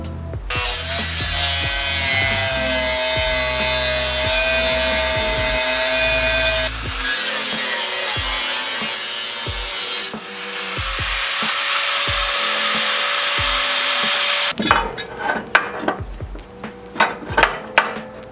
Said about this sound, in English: Looks like I need to trim out a little bit more on this side.